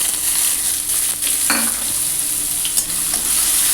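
Sliced onion hits hot oil with whole garam masala, giving a loud, steady, close-up sizzle with a brief stirring scrape partway through.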